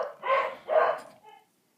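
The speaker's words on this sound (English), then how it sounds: "Sorry, my dogs, they are very loud." Dogs barking indoors, two close, loud barks in quick succession followed by a short fainter yelp, then silence.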